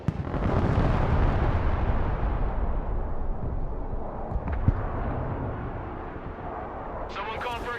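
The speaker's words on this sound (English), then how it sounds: "Airstrike complete." Airstrike explosions in the Broken Arrow video game give a long, deep rumbling roar that booms up and slowly fades over several seconds, with a sharp crack midway and a faint voice near the end.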